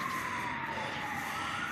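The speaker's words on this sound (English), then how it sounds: "And there's an ambulance passing by." An ambulance siren wails from the distance along a hillside street, a steady tone drifting slightly downward as the vehicle passes, over constant outdoor background noise.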